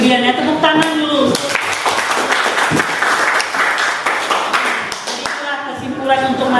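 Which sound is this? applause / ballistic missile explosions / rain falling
applause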